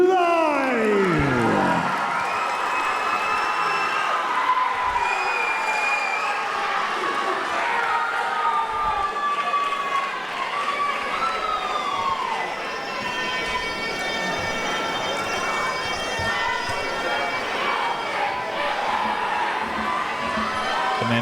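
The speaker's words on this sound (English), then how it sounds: "An energetic crowd for this one." A lively crowd cheers and shouts at a Muay Thai fight, with loud whoops and yells from many voices rising and falling steadily for about twenty seconds, high excited shouts near the start.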